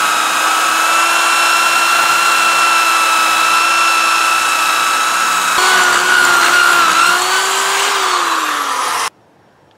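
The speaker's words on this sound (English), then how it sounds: "So I'm gonna use a drill bit here to get this out." A power drill bores out a stripped brake rotor screw, holding a loud, steady whine that shifts pitch partway through and dips as the bit loads up, then stops abruptly near the end.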